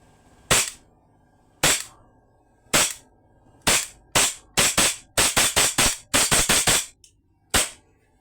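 A customised WE mini and KJW KP08 airsoft BB gun fires sharp, close, loud snapping shots, first spaced singly, then in a fast run of about eight rapid pops, followed by a final lone shot.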